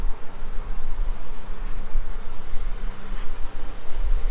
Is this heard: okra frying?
no